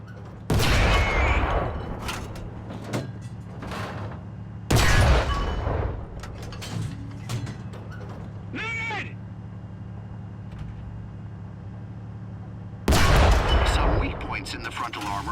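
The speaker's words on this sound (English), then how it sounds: "Keep firing at the tank's weak spots to destroy internal modules." Tank cannon fire in a video game, three heavy booming shots spaced several seconds apart with rumbling engine noise between them and a voice speaking in between.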